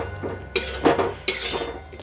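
A spoon stirs boiled chickpeas and potatoes in a cooking pot for Bengali chickpea dal, giving a few sharp metallic clinks and scrapes against the pot over a low kitchen hum, with no talking.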